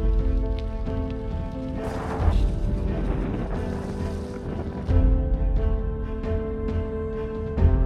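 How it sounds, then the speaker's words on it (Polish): Rain falling during a long bike ride, heard as a continuous hiss of drops with rumbling wind and road noise, swelling louder in bursts and steady in between, with no talk. "Coś tam pada, ale czy to kropi, czy to już leje, to już tego nie wiem"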